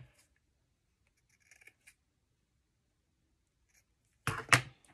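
Scissors trim paper overhang on a scrap-paper tag, a couple of faint snips early on, then a louder, close crisp cut near the end against an otherwise quiet background.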